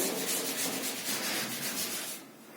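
Continuous dry rubbing as a cloth or duster wipes a wooden door used as a writing board, a steady scratchy friction for a few seconds that fades near the end, close and without talk.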